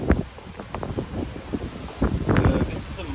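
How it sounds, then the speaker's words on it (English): Gusty wind buffets an iPhone microphone with low rumbling thumps, while someone talks underneath. "It's quite windy as well, so I'm going to do a mic check a meter away."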